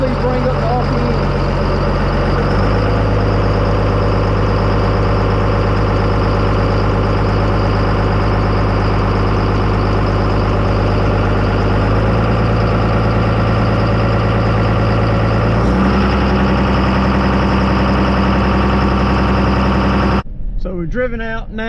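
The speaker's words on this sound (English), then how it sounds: "I'm going to slowly idle the engine up." An irrigation pump engine idles steadily in a low, heavy drone, its RPM stepping up gradually in a few stages before cutting off abruptly at the end.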